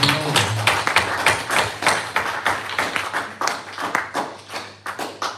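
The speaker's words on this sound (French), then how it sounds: "Acclamation pour le Seigneur." A church congregation claps in acclamation during a French-language service, producing rhythmic, fairly close hand claps in a steady beat with a low hum beneath and faint voices mixed in.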